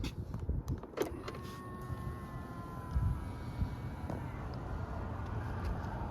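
Power folding side mirrors on a 2023 Chevrolet Silverado High Country diesel pickup swing open after the truck starts, a faint whirring electric motor whine with light clicks over steady idle and ambient noise.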